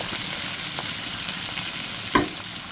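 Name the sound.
tengra river fish frying in a pan after flipping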